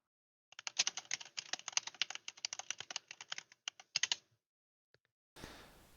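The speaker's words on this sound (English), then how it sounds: "Yeah, that was definitely a keyboard." Rapid keystrokes on a computer keyboard, steady clattering bursts for about four seconds, then stopping, with a couple of isolated taps and a brief rush of noise at the end; no talking.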